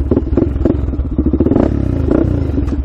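A Honda 400ex ATV engine runs close by with a loud, choppy idle, its uneven pulses thumping and clattering steadily throughout.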